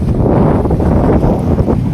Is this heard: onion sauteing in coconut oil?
no